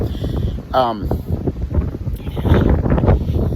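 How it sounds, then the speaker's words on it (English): Strong wind buffets the microphone with heavy low rumbling gusts while a person speaks over it. "it's too windy up here"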